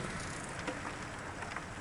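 Steady rain falls outside on a dark, wet evening near a roadside inn in Manheim, Pennsylvania, a soft continuous hiss with faint patters and no voices.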